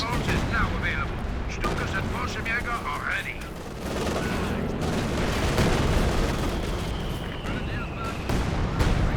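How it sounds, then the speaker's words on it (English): Artillery barrage in the World War II strategy game Company of Heroes 2: dense, continuous volleys of booming explosions and gunfire fill the whole stretch, loud and unbroken, with a faint whistle and voices buried in the battle noise. "Artillery barrage on the far VP"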